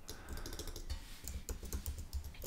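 Quiet, close typing on a computer keyboard while designing in Figma, a quick irregular patter of key clicks with no voice.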